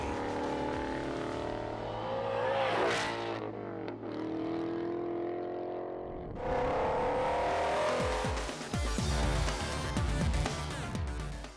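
A Shelby Super Snake V8 sports car roars loudly, revving hard and dropping off, then surging again with a deep, rumbling exhaust burble up close.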